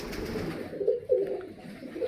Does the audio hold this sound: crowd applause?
no